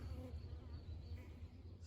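Bees flying around a swarm trap box outdoors, a faint, steady low buzzing hum from several insects close by, with no talking.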